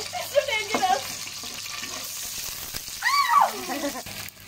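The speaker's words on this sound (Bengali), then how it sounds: "2 চামচ ঘি ইউজ করলাম। এটা ভালো করে চুলার তাপে গলিয়ে নেই।" Two spoons of ghee melt in a pan over a stove flame, giving a soft, steady frying hiss close by, while voices talk briefly at the start and again near the end.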